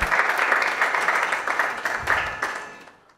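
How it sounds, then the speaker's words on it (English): A studio audience at a televised news panel show breaks into applause, dense clapping that holds steady and then tapers off toward the end. "Please, a big round of applause for Mr. Piering for me."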